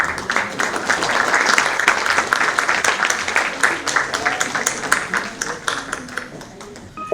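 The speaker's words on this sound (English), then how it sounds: "I request the audience to join me in applauding our dignitaries of" Audience at a cultural event for artists with disabilities gives sustained, loud applause for dignitaries, a dense wash of clapping lasting the full stretch with faint voices underneath.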